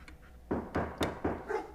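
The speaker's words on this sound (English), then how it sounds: "Doesn't that dog ever stop barking?" Dog barking in a house, five sharp, evenly spaced barks about a quarter second apart, fairly close and loud with nothing else over them.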